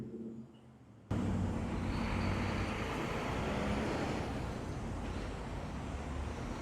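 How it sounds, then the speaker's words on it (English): A truck rolls along a Toronto city street, a steady broad roar of traffic noise that swells in after a quiet moment and holds for several seconds, fairly distant and without talk. "Let me turn it off again so you can hear this truck."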